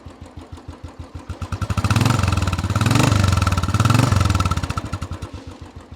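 A customised Royal Enfield Classic 350 motorcycle thumps at a loud, close idle, then swells through two or three brief revs before settling back to its steady single-cylinder beat, with no talking.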